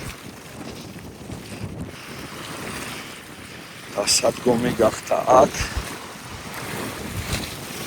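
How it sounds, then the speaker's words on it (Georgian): Strong wind-driven waves on the Tkibuli reservoir slosh and slap continuously against a fishing spot, with gusty wind rumble on the microphone and a voice speaking briefly partway through. "ძალიან ძლიერი ტალღები"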